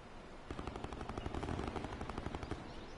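Distant automatic gunfire in the video game Black Ops 4 Blackout, a rapid run of faint, evenly spaced shots lasting a couple of seconds.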